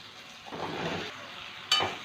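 Chunks of bottle gourd cut fairly large sauté with spices in a pan for an egg and lau curry, giving a soft steady sizzle with stirring scrapes and a brief sharp clink of utensil near the end.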